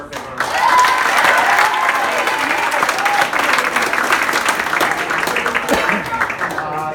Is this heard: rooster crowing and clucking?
no